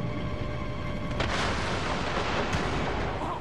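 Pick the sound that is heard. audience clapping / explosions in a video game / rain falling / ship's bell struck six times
explosions in a video game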